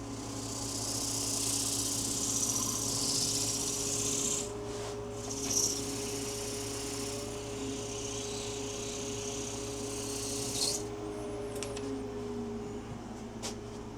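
A wood lathe spins steadily while excess wax is taken off a turned wooden bowl, giving a constant, fairly loud motor hum with a hissing rub throughout and a few brief scraping bursts.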